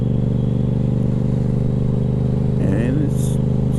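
A motorcycle cruises steadily at moderate speed, its engine holding a constant mid-pitched drone with a harmonic buzz throughout and a brief shift in tone near the end.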